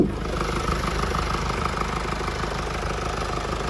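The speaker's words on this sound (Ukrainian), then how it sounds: "Зніму роботу двигуна ще." A 2018 Mercedes-Benz E220 All-Terrain with a 2-litre diesel engine idles close by, a steady, even clatter with light knocking and no voices.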